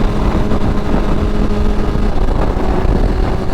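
BMW S1000RR sport bike engine pulling hard under acceleration, a loud sustained high-revving roar mixed with wind rush, close and continuous with no talk.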